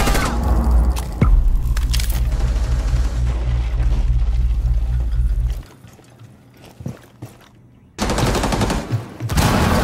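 A breach charge detonates in a video game, a loud sustained blast with rumbling debris that cuts off abruptly into near quiet with scattered faint sounds, then another burst of loud noise erupts near the end.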